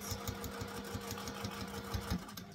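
A sewing machine stitches a zipper onto a sling bag, running steadily with a fast rhythmic needle pulse and a slight hitch near the end, close and moderately loud with no talking.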